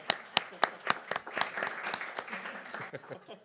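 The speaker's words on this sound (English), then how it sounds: "And so they would like to clap." A small group at a school board meeting claps, starting with several sharp separate claps that quickly blend into steady, moderately loud applause.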